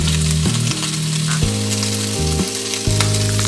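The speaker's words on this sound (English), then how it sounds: "that's sizzling" Food fries in a pan at home, a loud continuous sizzle and crackle that fills the sound close up, alongside steady tonal music with shifting low notes.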